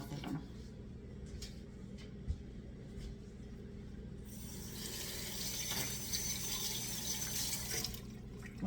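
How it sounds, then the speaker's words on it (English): Blueberries are rinsed under a running kitchen tap, quiet dripping and trickling at first, then a fuller, louder stream of faucet water splashing into a sink for the last several seconds, with no talking. "You rinse these very quickly. And make sure you drain all the water off of them."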